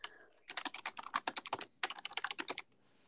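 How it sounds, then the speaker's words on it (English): Rapid typing on a computer keyboard, two dense bursts of crisp, close key clacks separated by a short gap, with nothing else over them. "I'm typing."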